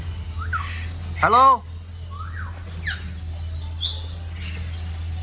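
Birds at Bangkok Safari World, one loud close burst of rising and falling whistled calls followed by a few softer chirps and squawks, over a constant low hum, with a person speaking briefly.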